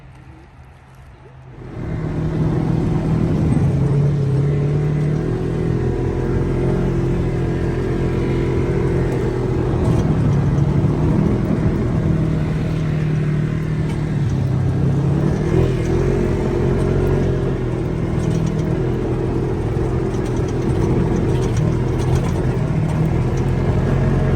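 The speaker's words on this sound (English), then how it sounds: "Just doing a little trail ride. Doing a little bit of sand. Testing out the RZRs." After a quieter start, a Polaris RZR side-by-side engine comes up to a loud, steady drone as it runs along a sandy trail, holding a constant rumble and whir with small rises in pitch for the rest of the ride.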